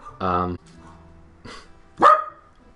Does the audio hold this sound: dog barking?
yes